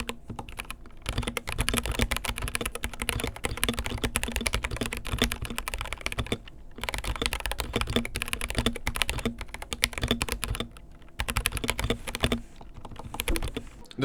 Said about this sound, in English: These are iLovBee red clones. These really aren't that bad. These are actually quite good, and here's what they sound like in this keyboard bone stock.